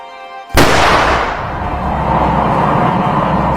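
A hunter's gun fires a single sharp, very loud shot at a lioness, followed by a long rumbling echo that fades slowly.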